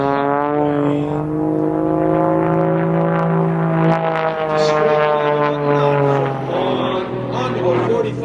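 An aerobatic propeller airplane performs at an air show, its engine droning loudly and steadily with shifting pitch as it maneuvers, while a commentator talks over the sound.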